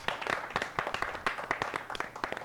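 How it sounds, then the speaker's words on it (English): A live game-show audience on the Challenge Bowl applauds a contestant named Jordan after a singing and dance performance, with dense, irregular claps rising and falling close to the mic throughout. "Big round of applause for Jordan."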